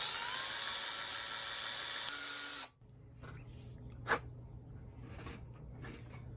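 A small drill boring holes to be tapped for 0-80 screws in an HO scale steam engine kit chassis whines at a high, steady pitch for about two and a half seconds. It then cuts off, leaving faint handling clicks and a soft knock.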